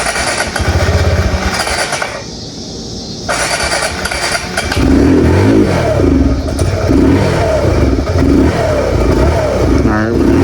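An old motorcycle that may be running on stale gas fires up nearby and idles, then revs louder and rougher with a clattering edge. A voice talks over the engine.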